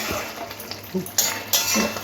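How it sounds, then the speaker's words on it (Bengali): A spoon scrapes and clinks against a pan while pumpkin, potato and pointed gourd are stirred with prawns. The contact noises are close and irregular over a soft background sizzle, and there are a few sharper knocks against the metal. "একটু নাড়াচাড়া করে মিশিয়ে নিচ্ছি।"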